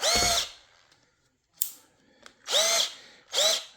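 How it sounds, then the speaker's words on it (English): A 21V Brookstone cordless drill whirs in three short bursts, close up, with clicks and brief handling noises in the pauses between. "That's drilling."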